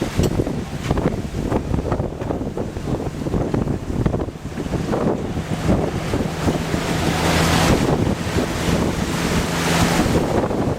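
Ocean waves and strong wind roar around a sailboat in rough seas of around fifteen feet between Newport and Bermuda, a loud, continuous wash of surf and buffeting wind noise on the microphone, swelling slightly toward the end.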